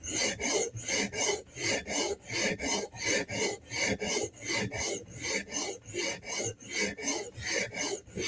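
Hand file on a steel blade edge, raising a burr, with about twenty evenly paced rasping strokes, each a sharp bright scrape, close and clear with short gaps between.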